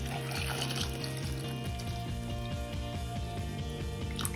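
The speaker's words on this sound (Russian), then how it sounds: "300 граммов моркови я залью холодной водой" Cold water pours steadily over carrots in a continuous splashing stream, with rhythmic background music playing underneath.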